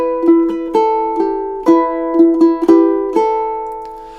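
A ukulele is fingerpicked alone, playing a short melody with added harmony at a brisk pace: clear plucked notes, each ringing briefly, close and fairly loud, with no voices.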